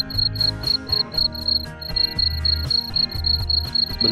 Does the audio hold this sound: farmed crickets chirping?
yes